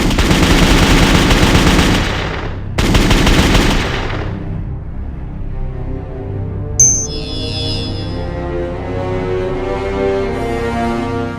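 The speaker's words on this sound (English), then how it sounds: "I'm going to do a little bit of shooting since I'm already out here at the range" Rapid automatic gunfire bursts at an outdoor shooting range on a very cold day, loud and close, two sustained strings of shots cut off abruptly, followed by a quieter tail with a single sharp crack.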